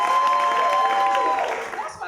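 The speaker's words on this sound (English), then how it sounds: "You guys give a warm round of applause for Micia Mosely" Audience applause and cheering at a comedy show welcome comedian Micia Mosely, a steady crowd wash lasting a couple of seconds before fading slightly at the end.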